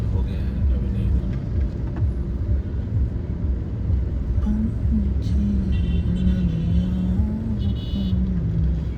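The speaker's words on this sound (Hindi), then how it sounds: "यहाँ पे है ट्रैफिक।" Road traffic idles at a signal in Port Blair, heard from inside a waiting car as a steady, loud low engine rumble with a faint tonal drone and occasional distant vehicle noise.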